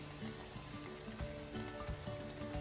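Prawns are added to a masala sauteing in a pan for Goan prawn balchao, producing a soft, steady frying sizzle with light scraping stirs, quiet and close with no talking.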